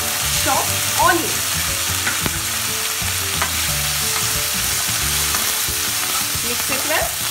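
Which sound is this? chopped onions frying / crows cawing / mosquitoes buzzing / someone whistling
chopped onions frying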